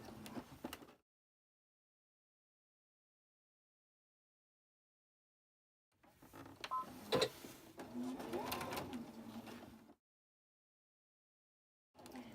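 A sewing machine stitches cotton quilt pieces in a few short bursts of whirring and clicking separated by silence, close by and moderately loud, with no talking.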